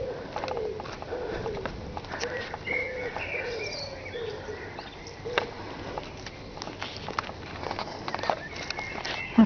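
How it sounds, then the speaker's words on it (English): Many birds, pigeons or doves among them, call near a German barn outdoors: soft cooing mixed with scattered chirps and tweets over a steady background hum, moderately close. "My goodness, lots of birds."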